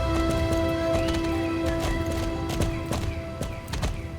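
A horse's hooves clip-clop at a steady walking rhythm in Star Stable, close and fairly loud over a sustained musical drone, climbing a steep hill.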